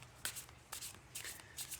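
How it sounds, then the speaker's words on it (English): Tarot cards being shuffled by hand at a reading table, four quick crisp riffling bursts in an even rhythm, close and fairly soft, with no talking. "I have pre-shuffled the cards, but I will shuffle them again for you"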